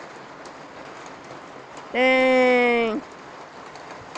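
Heavy rain pours outdoors in a steady, dense hiss that fills the whole stretch, and a voice briefly exclaims once near the middle.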